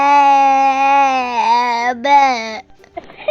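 A sheep bleats in a long, wavering, quavering cry, loud and close, with a brief break before it resumes and trails off.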